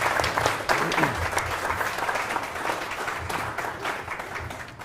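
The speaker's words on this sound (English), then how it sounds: "Big round of applause for Pavlo" An audience gives a sustained round of applause after an author interview, a thick continuous crackle of many hands clapping that holds steady and fades slightly toward the end.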